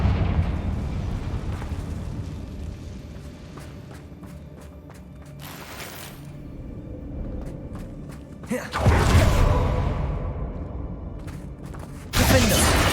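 In Hogwarts Legacy, a Confringo fire spell bursts with a loud crackling explosion and rumbling roar over continuous game ambience, followed by a second blast near the end.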